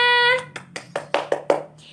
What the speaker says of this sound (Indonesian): Yeay, tepuk tangan buat semuanya.